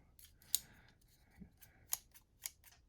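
Leatherman Raptor shears snip in a few sharp, distinct cuts spaced irregularly, close and crisp against a quiet background.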